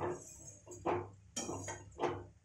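Homemade sweet, sour and spicy tomato pickle scooped into a bowl, with several soft clinks and scrapes of utensil against dish in an irregular rhythm, fairly quiet and close, with no talking.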